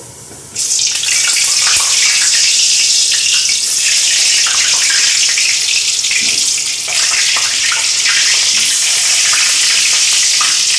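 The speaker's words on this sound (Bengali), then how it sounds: "তেলটা গরম হয়ে এসছে। এবার আমি আলুগুলোকে ছেড়ে দেবো।" Potato pieces dropped into hot oil in a wok, a sudden loud burst of sizzling that starts after a brief quiet moment and continues as a dense, steady crackling hiss with no talk.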